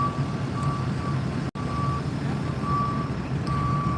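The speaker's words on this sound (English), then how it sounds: "This truck's just moving." A truck moves slowly near the scene of a large fire in Washington DC, its reversing alarm sounding a steady series of evenly spaced high beeps over a constant engine and street rumble, with one brief dropout.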